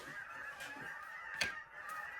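Geese honk outdoors in a steady cluster of calls, fairly faint and distant, overlapping with a few sharper honks standing out against a soft background.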